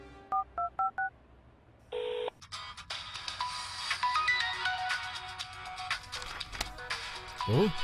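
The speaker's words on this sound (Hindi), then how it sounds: "ओह, रम्या का फोन है।" A telephone sounds with a short series of dial-like beeps, then a tonal ringtone melody that continues for several seconds, fairly close, with a brief voice-like sound near the end.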